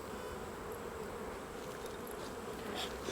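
Honey bees buzz steadily in a dense, close swarm at an opened hive, a continuous low hum with no voices.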